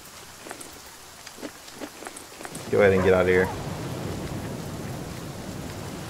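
Rain falls steadily in the survival game The Flame in the Flood, a soft continuous patter with scattered drops. Someone talks briefly partway through, and the wash of rain grows fuller after he speaks.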